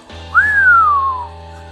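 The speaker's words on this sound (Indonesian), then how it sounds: "Begitu bersiul Wiro" A single clear whistle rises quickly then slides slowly downward, loud and close over a faint low hum.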